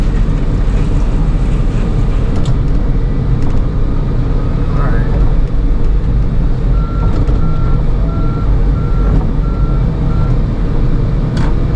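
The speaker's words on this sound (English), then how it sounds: "I will say this Komatsu is not bad for mulching, but golly, when this mulcher is running, it will barely track forward." A Komatsu excavator runs a mulcher while clearing a long-overgrown ditch, giving a loud, continuous, close engine roar with steady mechanical grinding, a faint repeating reversing beep partway through, and wind buffeting the microphone.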